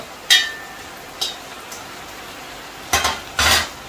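Boiled spaghetti noodles with chicken and vegetables are stir-fried for chow mein, with a few sharp scrapes and clinks of a utensil against the pan over a soft sizzle, close and spaced apart.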